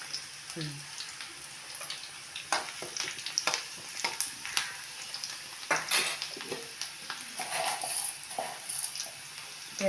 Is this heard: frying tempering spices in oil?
yes